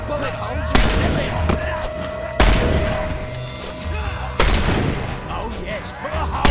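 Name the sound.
gunfire in the video game Fable 3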